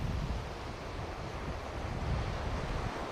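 Gentle surf on a flat sea at a fishing beach washes in a steady, soft, continuous hiss, with light wind rumbling over it and no talking.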